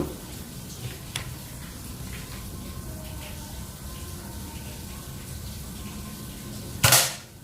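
A single sharp shot from a Mouser Biggame magazine air rifle cracks near the end after a long stretch of quiet background hiss, with a faint click earlier on.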